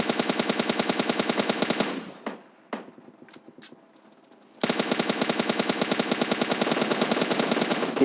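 Gunfire rattles through a PUBG Mobile Lite match: a long burst of rapid automatic shots, a pause broken by a few single cracks, then another sustained automatic burst, loud and close with no talk.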